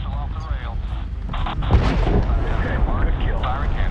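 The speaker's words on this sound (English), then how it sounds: "Missile off the rail." A missile strike explodes in the Medal of Honor war game, a loud close boom rolling into a long rumbling blast that fills the clip, with radio chatter layered over it.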